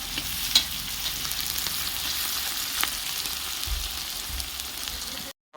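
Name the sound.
frying vegetables in oil with spices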